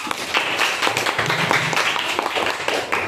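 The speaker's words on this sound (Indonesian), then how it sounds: "tepuk tangan dulu untuk Naila." A classroom of fourth-grade primary school pupils claps for a classmate, giving steady, dense clapping close by that lasts the whole stretch without speech.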